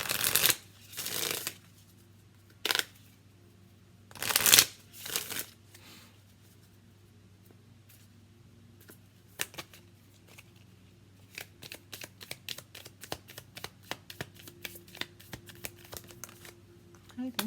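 A deck of tarot cards is shuffled with several bursts of riffling and card slaps early on, then softer scattered taps and handling noises, close and fairly quiet with no talking.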